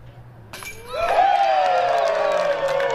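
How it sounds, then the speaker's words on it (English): Crowd cheering at a disc golf tournament's final round, a distant roar that swells suddenly and holds steady, with faint clinks and speech mixed in. "if you heard the cheering in the background"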